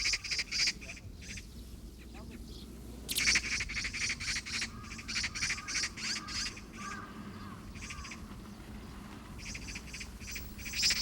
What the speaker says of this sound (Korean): 집단을 이루어 사는 까치들이 침입자에 대한 집단 공격에 나섰다.